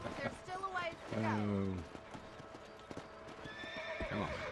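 A horse in the Xbox 360 game Red Dead Redemption clip-clops at a steady pace and lets out a loud whinny, its hoofbeats continuing under occasional game voices.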